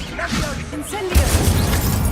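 In Hogwarts Legacy, the Incendio fire spell is cast with a shattering, crackling burst that swells into a rumbling roar amid combat noise, with a person talking over it.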